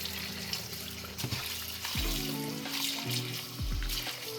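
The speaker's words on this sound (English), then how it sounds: "And you drain and wash." Rice is washed and drained in water in a home kitchen, with sloshing, trickling and swirling water sounds close by and no talk.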